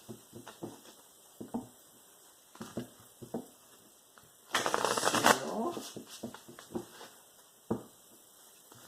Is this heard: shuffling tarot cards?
yes